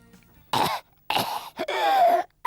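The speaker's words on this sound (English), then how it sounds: "and he was coughing" A man coughing, three harsh, raspy bursts separated by short pauses, the last one drawn out into a rough throat-clearing hack, heard close and alone.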